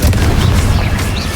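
A single Confringo fire spell blast from Hogwarts Legacy, a close, loud booming explosion with a rumbling low tail that fills the short moment on its own.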